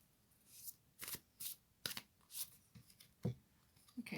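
A deck of Moonology oracle cards being shuffled up close, a series of quick riffling and sliding bursts in an uneven rhythm, soft and alone without any voices.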